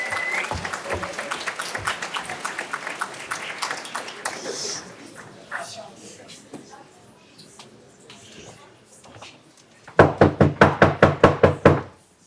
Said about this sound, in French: ceux qui méritent tous vos applaudissements